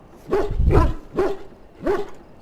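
A dog in Dragon Age: Origins at Ostagar camp gives four short, loud barks in an uneven rhythm, close by and alone.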